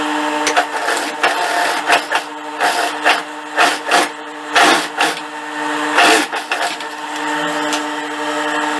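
A sewing machine stitches around a trouser pocket on pantacourt pants, a loud close mechanical whir with steady harmonic hum broken by rhythmic bursts as the fabric is fed and turned.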